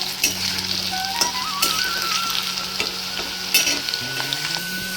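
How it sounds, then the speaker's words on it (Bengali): Potatoes fry in a pan with a continuous soft sizzle and scattered crackles and stirring clicks, heard alone at moderate level. "আলুটাকে একটু ভাজা ভাজা করে নেবো"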